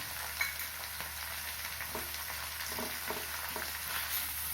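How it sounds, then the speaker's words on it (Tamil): Bitter gourd pieces with turmeric fry in a wok-style kadai, giving a soft, steady sizzle with occasional faint stirring scrapes, fairly quiet and with no talking. "இது போல் வானலில் வச்சா தான் டேஸ்ட்டாக இருக்கும் காயும் சீக்கிரம் வதங்கும்"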